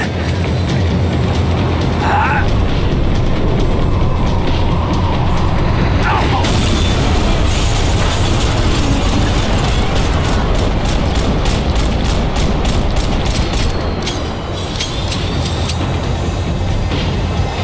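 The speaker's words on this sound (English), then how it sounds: "The tram was slowing down, and I'd only just gotten on board." A tram in the video game Max Payne 3 rumbles and rattles along continuously, with clanking mechanical noises and a rhythmic ticking as it slows, loud and close.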